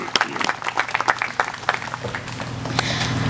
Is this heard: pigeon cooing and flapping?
no